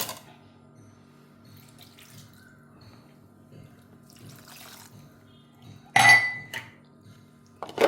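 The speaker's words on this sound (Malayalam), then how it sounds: "കുറച്ച് വെള്ളം ഒഴിച്ച് കൊടുക്കാം." Water splashes briefly into a kitchen vessel holding grated coconut, onion and chilli for coconut chutney, a short bright pour near the end after quiet clinks and handling.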